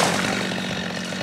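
A chainsaw runs steadily at close range while cutting a huge tree in Karimba, Palakkad, its engine drone holding an even, rough buzz throughout.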